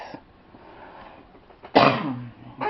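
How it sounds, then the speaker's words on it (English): A single sharp cough bursts out near the end, loud and close, after a stretch of quiet room noise, followed by another brief vocal sound. "Please pardon my cough."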